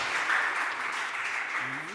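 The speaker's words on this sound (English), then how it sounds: "Let's give them a round of applause as well." Steady applause from a crowd at a Philadelphia City Council meeting fills the whole moment, even and moderately loud, with a faint voice briefly rising near the end.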